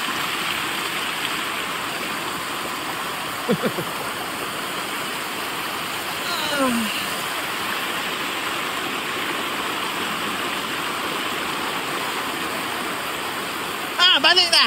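Rushing water of a waterfall, a steady broadband roar that stays even throughout at moderate distance, with a few brief voices and clatters over it.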